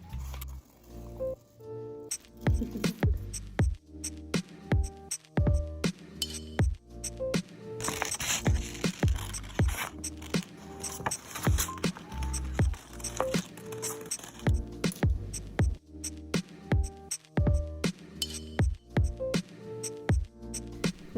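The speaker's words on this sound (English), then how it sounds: "now I'm just going to cut out the rest of my butterflies" Scissors cut paper butterflies for hanging room decor, close and quiet, in a series of sharp snips and crisp rustles of paper in an irregular, steady rhythm.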